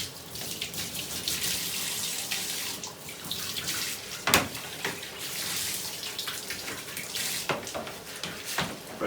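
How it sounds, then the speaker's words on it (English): A VanEE air exchanger HRV filter is rinsed under a cold running tap, with a steady splashing stream and a few sharper splatters as water hits the filter, close up and without talk. "just going to rinse it out under the tap"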